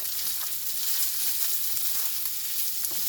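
Rice frying in a pan while being stirred, a constant close sizzle with soft scraping of the utensil through it, no voices.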